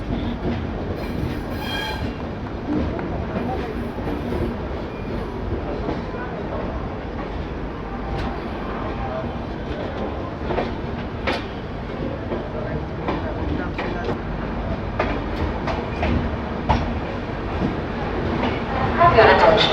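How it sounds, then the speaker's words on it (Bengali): A New Delhi–Malda Town Express rolls slowly into Bhagalpur Junction in the evening, a steady rumble of wheels and carriages with faint squeals and clicks, swelling slightly near the end amid station background noise. "ট্রেন ধীরে ধীরে ভাগলপুর জংশন এন্টার করছে"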